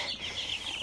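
A batch of chicks peeps and clucks in a brooder on a farm, a busy overlapping chorus of high chirps, close and continuous for under a second, with no talking.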